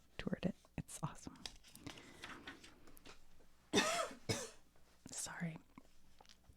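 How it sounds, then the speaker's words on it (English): A few harsh, close coughs break through soft whispering and quiet murmurs in a soft-spoken ASMR book flip-through, one loud burst followed by smaller throaty coughs. "I got a cough"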